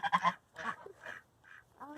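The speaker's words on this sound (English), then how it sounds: "we're gonna let these birds here dine in peace" Domestic fowl, likely geese or ducks, feeding on a hornet's nest, giving several short, nasal honking calls in a loose, uneven sequence, close by and fairly quiet, separated by brief pauses.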